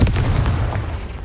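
A Confringo fire spell from Hogwarts Legacy bursts with a loud, booming blast that rumbles heavily in the low end and fades over about a second, heard alone with no talk.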